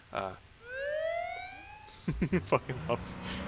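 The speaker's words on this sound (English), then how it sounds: "I love having sirens." Police car siren in the zombie survival video game H1Z1, a rising wail sweeping upward for about a second, then someone talks over clipped siren bursts.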